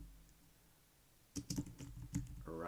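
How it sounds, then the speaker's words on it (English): Typing on a computer keyboard, a rapid run of close, crisp keystrokes that starts after a quiet opening second and carries on to the end. "I'm going to go ahead and type in assign"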